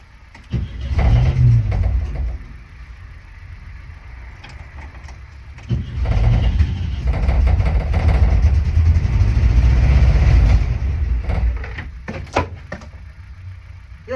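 Car engine cranking and catching after a jump-start on a dead battery, loud rumbling bursts with a quieter pause between, followed by a sustained running drone and a door-like clunk near the end.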